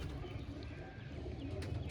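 Pigeon cooing softly at close range, low repeated coos over a faint background murmur.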